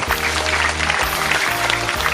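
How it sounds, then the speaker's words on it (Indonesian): Audience applause during a children's storytelling and drawing session about General Sudirman: a dense, steady wash of clapping over a low sustained hum, filling the whole moment without pause. "Tepuk tangan untuk pahlawan kita."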